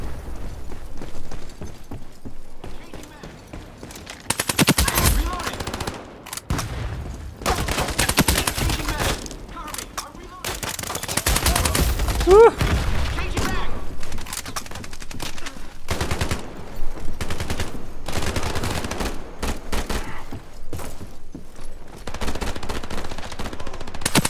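AN-94 rifle in the shooter game Ironsight fires repeated loud bursts that come in clusters with short gaps, over constant in-game noise and footsteps.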